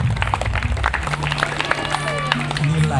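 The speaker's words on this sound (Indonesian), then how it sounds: "kita beri tepuk tangan" Audience applause at a mosque gathering, a burst of scattered clapping from a crowd mixed with murmuring voices and a low hum, fairly loud and close.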